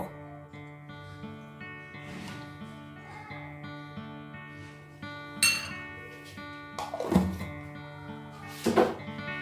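A spoon clinks against a bowl while mayonnaise is scooped for a veg mayo sandwich, with a few soft, scattered taps followed by three sharper clinks near the end. The sounds are close and faint in a quiet kitchen.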